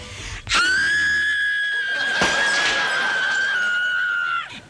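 A person lets out one long, loud, high scream that holds a steady pitch for about four seconds and then stops abruptly.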